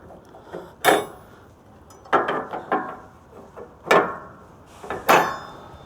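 Metal pins pulled from a skid steer ramp on a step deck trailer, a series of sharp metallic clinks and clanks in irregular bursts, close and fairly quiet between hits.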